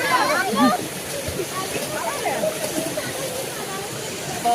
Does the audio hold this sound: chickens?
no